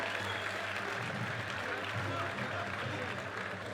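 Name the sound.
audience applause for boxing medal winners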